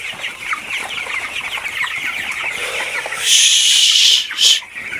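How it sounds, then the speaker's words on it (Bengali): Frightened chickens cluck in a rapid, agitated series close by after a fox attack on the flock, then a louder burst of sharp squawks near the end, with no talk. "মুরগিগুলো একদম ভয়ে মানে ওইদিকে যাইতেই আছে না"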